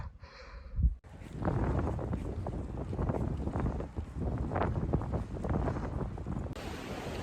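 Strong wind buffets and roars across a coastal path through sand dunes, a loud, continuous rumbling gust that fills the whole stretch after a brief quieter start.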